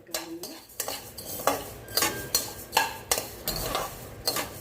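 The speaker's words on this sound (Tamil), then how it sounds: "இப்போ ஒவ்வொன்றா நம்ம வறுத்துடலாம்" Spices roasting in a pan for a pepper premix, with a utensil scraping and clinking against the pan in a steady series of distinct strokes, close and moderately loud, no talking.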